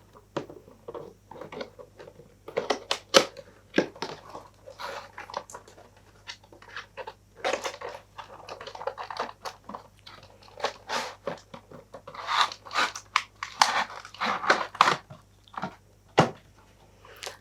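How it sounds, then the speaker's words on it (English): Scissors snip and crunch through stiff plastic packaging of a Star Wars Hot Wheels AT-AT toy in quick irregular bursts, with crinkling and rustling between the cuts, close up. "So I'm going to grab my scissors and get in."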